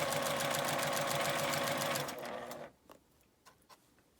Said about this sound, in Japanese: 端を揃えてここを1センチの縫い代で縫います。